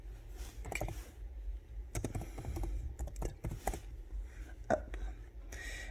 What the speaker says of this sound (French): Et on tape le texte dont on a besoin.